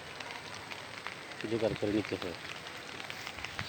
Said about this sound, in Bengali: বৃষ্টি পড়তেছে, সারাদিনই বৃষ্টি পড়তেছে